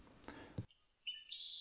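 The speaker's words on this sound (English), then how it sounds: "There's some bird song." Bird song played as a sound on a Soundbeam music system, a short electronic burst and then clear high chirps and tweets rising briefly in a quiet space.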